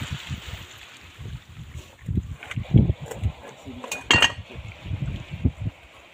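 Pot lid and bowls clink together while a meal is set out, with a few sharp metallic and ceramic knocks near the middle standing out over steady nearby chatter.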